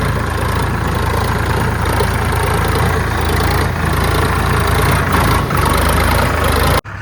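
Mahindra tractor engine idling close by while being loaded from another Mahindra, a loud, steady low rumble that continues unbroken, with a brief dip right at the end.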